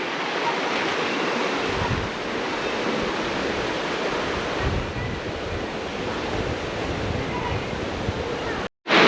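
River water rushing below the Karapara hanging bridge in Nelliyampathy, a dense continuous roar of flowing water with some wind, steady and close before it briefly cuts out near the end.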